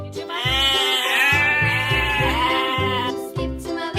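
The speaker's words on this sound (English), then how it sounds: "Sheep." Sheep bleating loudly and close, one long wavering bleat over a steady, rhythmic low pulsing backing beat, ending with a shorter second call.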